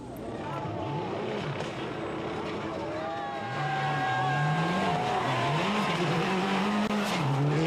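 Rally car at speed on a gravel special stage at the 1999 Rally of Argentina, its engine close and loud, revs climbing and dropping in repeated sweeps, with someone narrating over it throughout.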